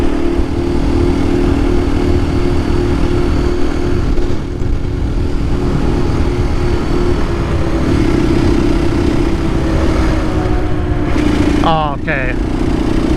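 A KTM EXC-F 500 dual sport motorcycle cruises on a paved street in fifth gear, its engine a steady loud drone with wind rush throughout, while a rider speaks briefly near the end.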